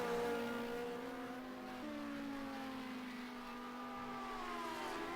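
A Lamborghini Gallardo GT race car engine in a sim racing game holds a steady high drone with smooth pitch shifts and one gear change, sustained and fairly loud, and nobody speaks.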